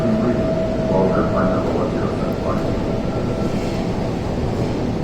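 A Kochi Metro train runs along a curving cantilever bridge, heard from inside as a continuous loud rumble and hum with a faint whine, steady throughout with no break.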